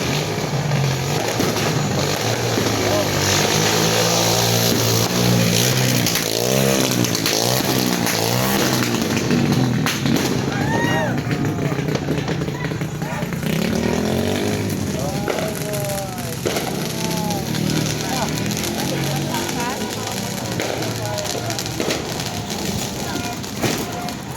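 A motorcycle revs and passes nearby on a street during New Year fireworks, its engine rising and falling amid crackling bursts and excited voices in the background.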